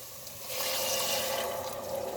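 Water pours steadily into a measuring cup for a Turkish yüksük soup, a continuous close splashing fill that swells after a brief start and runs for about two seconds.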